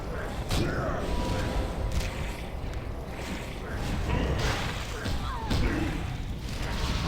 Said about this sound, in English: Here's another vent that's going to go kaboom.